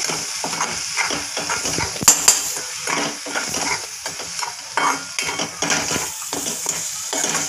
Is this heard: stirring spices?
yes